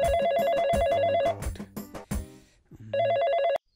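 A telephone rings during a comedy sketch with an electronic ringtone warble in two bursts, the first running over a stretch of soft rustling and knocks before it cuts off, the second returning alone and stopping abruptly.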